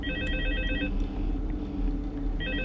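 A telephone in Five Nights at Freddy's 2 rings in two bursts of a trilling electronic bell, clear and close, with a low game hum running beneath and a quiet gap between rings.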